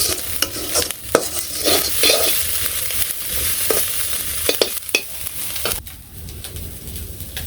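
Taki fish mixture frying in a pan in a Bangladeshi village kitchen, a spatula repeatedly scraping and stirring over a steady sizzle, with irregular knocks and scrapes close by.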